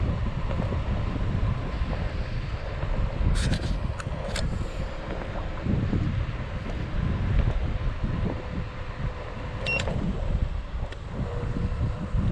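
Strong wind buffeting the microphone while riding a Hiboy S2R Plus electric scooter outdoors, a continuous loud rumbling roar throughout with a few faint higher squeaks.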